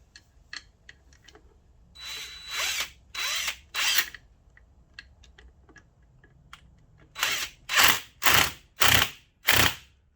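Power tool bursts while running down the bottom bolt holding a TWF racing fork cartridge: about three whirring runs in the first half, then four louder, evenly spaced bursts near the end, with small clicks between.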